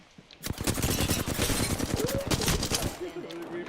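A dense burst of rapid gunfire in Apex Legends, sharp shots rattling in quick succession for several seconds before cutting off, loud and close.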